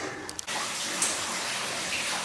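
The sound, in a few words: running water inside an abandoned mine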